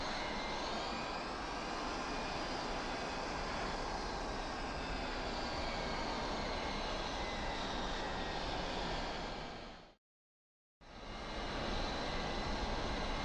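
A Mirage F1 jet in the DCS flight simulator taxis from the ramp toward runway 09 at Ramstein, its engine a steady loud whine and roar that cuts out briefly near the end, then resumes.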